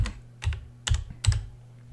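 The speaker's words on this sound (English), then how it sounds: "I'm going to start typing in gravel" A computer keyboard is typed on in four quick, distinct keystrokes spaced about half a second apart, close and crisp in an otherwise quiet room.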